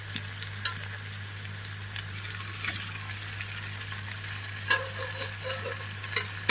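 Fish curry masala with salt, chili and turmeric fries in a pan, a soft sizzle broken by sharp scrapes and clicks of stirring over a steady low hum.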